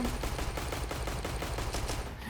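Rapid automatic gunfire in CS:GO in a continuous, evenly spaced burst, loud and close, with no talking.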